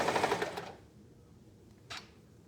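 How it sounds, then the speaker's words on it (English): A sewing machine re-sewing a split seam runs in a fast, loud stitching burst for about half a second, then stops, followed later by one brief mechanical clack. "we're going to re-sew that seam"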